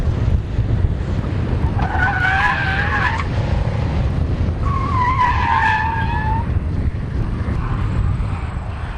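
A Nissan Skyline R33 skidding in two long tire squeals, each lasting over a second, screeching loudly over a constant roar of engine and road noise.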